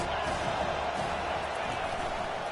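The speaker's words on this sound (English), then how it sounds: "Big 3rd down as the crowd gets behind this defense." Steady stadium crowd noise from a football video game, a broad continuous roar of cheering fans backing the defense on a big third down, loud and sustained without pause, with an announcer's voice over it.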